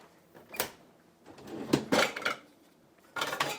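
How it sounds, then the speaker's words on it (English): A food processor being pulled from a kitchen cupboard: a few separate clattering knocks and bumps of hard plastic and cupboard contents, close by, with brief pauses between them. "Let me get my food processor out real quick."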